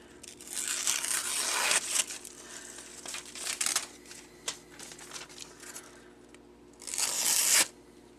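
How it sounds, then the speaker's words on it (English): A freshly sharpened knife slicing through fibrous material, heard as a close, rough tearing and crunching that swells and fades over several seconds, with a second sharp burst of cutting near the end. "There, that's the type of cut I want."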